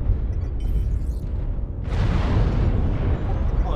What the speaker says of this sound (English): Artillery strike online.